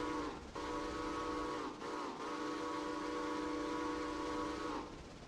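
An EBT steam locomotive whistle in Railroader sounds a deep, chime-like blast that holds steady for most of the span, with two brief breaks near the start, then fades over a low hiss.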